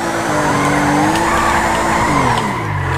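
Tires squeal loudly and continuously as a car skids out of control in the video game GTA V, engine droning beneath the wail for about three seconds.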